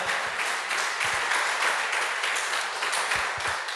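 Congregation applauding at a church service after a sermon, a dense, steady wash of clapping throughout with no voices over it.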